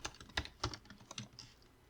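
Quiet, irregular keystrokes tap on a computer keyboard, a handful of distinct clicks over two seconds with no talk.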